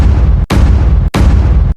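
Three loud, close gunshot booms sound in quick succession, each a sharp blast that rings out before the next, with no voices.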